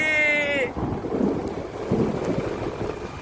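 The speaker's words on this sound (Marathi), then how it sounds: "हा बघा कसला पाऊस आहे." Heavy rain pours in a steady, dense roar with deep rumbling swells like distant thunder, close and loud throughout, after a brief high whine fades at the start.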